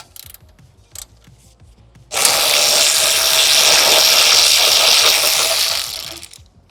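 A wrench working loose the bolts on a car bumper, a few faint clicks and knocks followed by a sustained loud, broadband grinding burst of about four seconds that tapers off.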